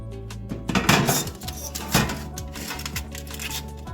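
A foil-covered turkey meatloaf pan is slid into an oven, giving clattering metal clanks and rattles with a couple of louder knocks, close by and without talk.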